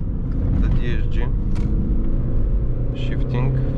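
Diesel VW Polo 1.6 TDI hatchback with a 7-speed DSG gearbox accelerating from the driver's seat, a loud continuous engine rumble with quick, brief dips at gear shifts, while someone talks over it in bursts.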